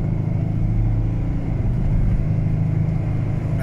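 A 2019 Ford Ranger pulls away from a stop with a juddering vibration at low speed, giving a steady, loud, low engine and drivetrain drone throughout with no talk.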